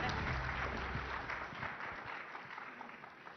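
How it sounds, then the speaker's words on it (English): Audience applause at a live summit event, a dense steady wash of clapping that stays loud throughout and fades slightly toward the end. "Can we have a huge round of applause"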